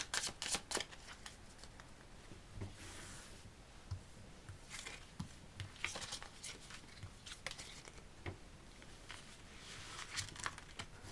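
Tarot cards are shuffled by hand close up during a reading, producing soft rapid riffles and papery slaps in irregular bursts, quiet and with no talking.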